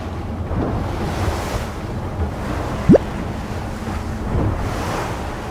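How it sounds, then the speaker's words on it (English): An aluminum boat moving too slowly takes a wave that splashes over it, heard as a rush of surf and wind noise at sea with a brief sharp burst midway. "Oh boy, getting wet. Just took a wave."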